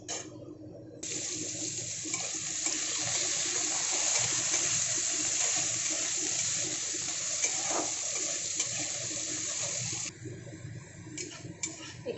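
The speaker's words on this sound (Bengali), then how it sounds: "প্রথমে আলুটা দিয়ে একটু ভালো করে ভেজে নেবো" Potatoes frying in a pan for a chicken-skin ghugni give a steady, close sizzling hiss that starts abruptly, holds evenly for about nine seconds, then drops away. No one speaks.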